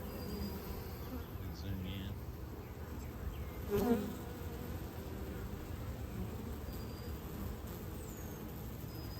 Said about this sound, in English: There's a lot of bees out front.